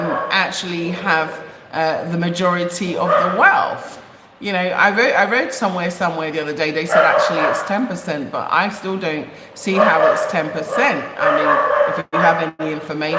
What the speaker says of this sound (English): And I'm sorry about the dog.